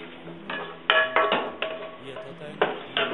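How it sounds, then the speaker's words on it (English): Pasta being stirred in a pan of warm oil and butter for carbonara, with a run of clinks and scrapes of a utensil against the pan and a few sharper knocks, fairly close and moderately loud. "I'm stirring the pan with the pasta"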